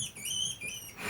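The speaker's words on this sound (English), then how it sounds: "Here is a weasel sound." A weasel call played from a smart speaker: rapid high-pitched squeaks and chirps repeated in quick bursts, fairly faint and heard alone over a slight hiss.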